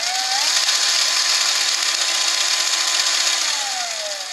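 A ball mill's motor under PWM speed control whines as it ramps up, its tonal hum rising in pitch over the first half-second, holding steady, then sliding back down near the end, all over a loud, continuous mechanical roar.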